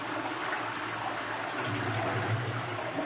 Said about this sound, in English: It's only water.